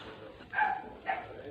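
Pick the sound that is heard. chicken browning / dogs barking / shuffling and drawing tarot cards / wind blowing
dogs barking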